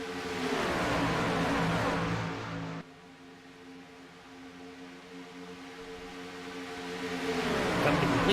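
A field of stock cars roars past at Talladega: a loud engine drone rises and then cuts away abruptly, a lower, steadier roar carries on, and a fresh swell of approaching engines builds toward the end.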